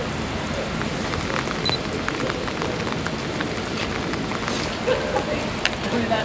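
Heavy rain pours steadily on a December walk through Beeston, Nottinghamshire, a dense continuous hiss with scattered nearby drops and patters, loud and close throughout with no voices.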